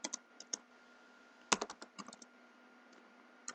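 Quick bursts of key clicks on a computer keyboard while code is typed, several taps, then a pause, then a faster cluster, close and clear in an otherwise quiet room.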